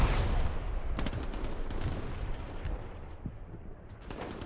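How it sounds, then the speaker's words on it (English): In the Hell Let Loose video game, a close grenade bursts loudly at the start, followed by a rattle of distant gunfire and decaying rumble. "That is a massive nade from Doug's."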